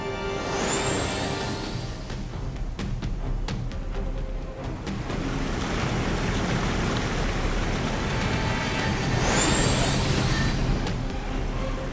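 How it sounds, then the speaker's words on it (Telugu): A waterfall roars in a constant, heavy rush of water, loud and unbroken, with a brief high whistle-like tone near the start and again near the end. "ఇది ఒక మ్యాజికల్ వాటర్ ఫాల్."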